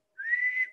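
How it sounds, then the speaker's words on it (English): A single short, clear whistled note from a zookeeper in an animal sound-effects story, rising slightly and holding steady for about half a second, heard alone against silence. "I hear a zookeeper whistling in my ear"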